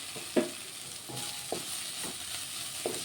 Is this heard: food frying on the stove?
yes